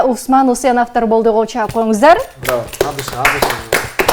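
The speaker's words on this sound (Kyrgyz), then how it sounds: "Кол чаап коюңуздар." An audience applauds the teams at a Kyrgyz comedy stage show, a dense burst of clapping that swells after a man's short spoken announcement and carries on to the end beneath a steady background tone.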